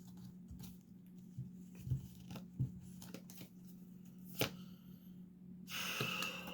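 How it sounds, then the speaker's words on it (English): A deck of tarot cards is shuffled by hand: scattered soft riffling ticks and light slaps come in uneven bursts over a faint steady hum, ending in a denser rustle, close and quiet, with no talking. "If I can get the cards to shuffle."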